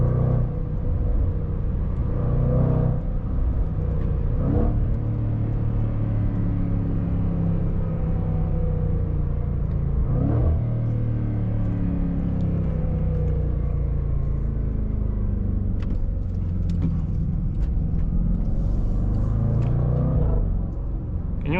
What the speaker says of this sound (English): And even if you drive normally, this engine will give you crackles,